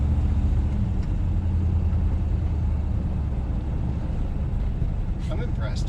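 A Chevy Suburban fitted with a new muffler idles with a steady, low, even rumble close by, with a few faint high chirps near the end.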